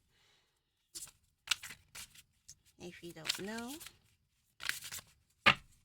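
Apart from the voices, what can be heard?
shuffling playing cards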